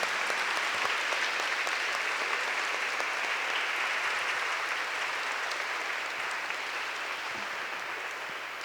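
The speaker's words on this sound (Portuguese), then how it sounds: "Uma salva de palmas para os pais" A church congregation at Sunday Mass applauds the fathers, a long, dense round of clapping that fills the space evenly for over eight seconds before gradually tapering off.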